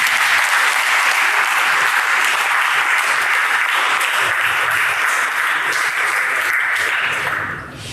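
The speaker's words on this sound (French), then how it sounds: "Veuillez applaudir." Sustained audience applause fills the hall at a Cameroonian law conference on energy security, loud and steady throughout before fading slightly at the very end, with no voices over it.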